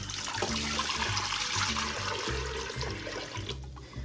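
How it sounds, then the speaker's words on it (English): Water poured into an Instant Pot while making a Southern pot roast with carrots and potatoes, a steady close splashing and gurgling stream that runs for about four seconds and tapers slightly at the end. "I'm gonna add my water to my Instant Pot"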